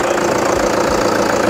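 An antique diesel car engine idles steadily and loud and close, a smooth continuous rumble with faint knocking pulses throughout.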